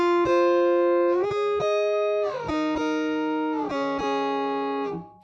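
Bass guitar played through a pitch shifter pedal set two octaves up gives bright, synthetic-sounding sustained notes, several distinct plucked notes changing pitch in sequence, clear and alone.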